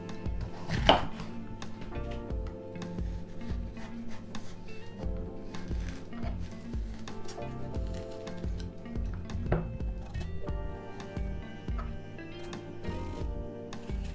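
A knife chops a peeled Granny Smith apple into small pieces on a cutting board, a run of close, crisp, irregular thuds and clicks repeating throughout with no talk.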